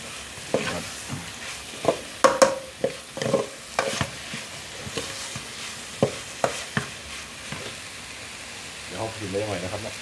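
Pork stir-fried in a pan for Thai gaeng om, with repeated scraping and clattering strokes over a soft sizzle and someone talking at the end.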